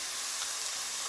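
A pound and a half of ground beef browning in a hot pan, giving off a dense, steady sizzling hiss that stays loud and even throughout, with no voices.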